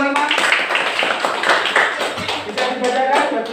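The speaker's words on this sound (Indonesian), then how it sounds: "Tepuk tangan untuk kelompok 5." Primary school classmates clapping for a student group after a presentation in a classroom, a lively burst of many hands close by with uneven rhythm, mixed with chatter and voices.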